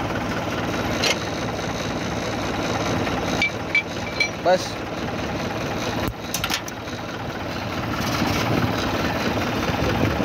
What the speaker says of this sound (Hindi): ट्रैक्टर हो गया चालू